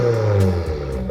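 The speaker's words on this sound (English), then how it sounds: "If you have a PLM WRX axle back, it will definitely give you that tone" A 2024 Subaru WRX VB with a PLM axle-back exhaust gives a brief, close revving drone with a deep steady tone, heard alone.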